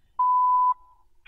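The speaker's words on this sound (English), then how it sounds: "Three red. Short beeps and two long beeps." A video game puzzle sounds a clear electronic tone: one sustained steady beep that cuts off and trails into a thinner fading note, followed by a brief burst of noise at the end.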